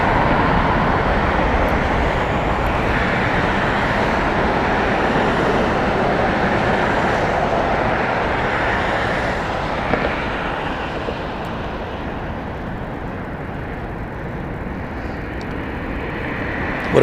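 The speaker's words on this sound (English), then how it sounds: "we'll follow this Southwest flight out for a little bit." A Southwest airplane departing Las Vegas Harry Reid airport, a broad, loud jet roar that holds steady and then slowly fades as it climbs away, with no talking.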